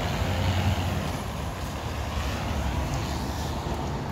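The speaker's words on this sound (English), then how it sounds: "these lorries are going in to be checked for their goods coming from Canada and" Heavy lorries rumbling and idling at a post-Brexit border inspection point in Belfast, a steady low engine drone with wind noise, close and continuous with no talk.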